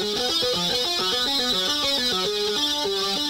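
A stepping synth line from a progressive metal song, playing a busy pattern of short, evenly paced notes that jump between pitches, steady and upfront, with a distorted backing underneath and no voices.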